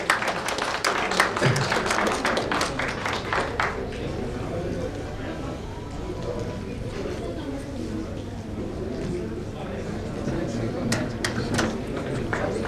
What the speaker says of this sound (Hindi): जोरदार तालियां के लिए.